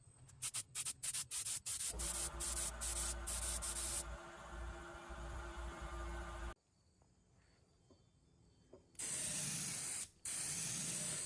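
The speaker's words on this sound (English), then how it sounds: "As I begin to spray" A spray gun hisses as it sprays water-thinned paint onto a speaker cabinet, in a few bursts: sputtering short blasts, then a steady loud spray, a quiet pause, and a final strong burst.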